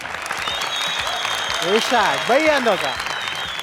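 A studio audience at a TV entertainment show breaks into sustained applause, a dense wash of clapping while a presenter speaks over it.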